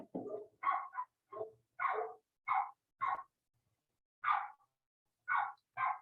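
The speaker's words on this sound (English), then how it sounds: "Apologies about the ill-timed dogs and car." Dogs barking outside, a series of about ten sharp barks in uneven bursts with short pauses between them, moderately distant and fairly quiet, with no talk over them.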